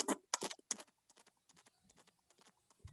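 A man imitates a galloping horse with his voice, making rapid clip-clop clicks. A strong, quick cluster comes first, then lighter, scattered clicks follow.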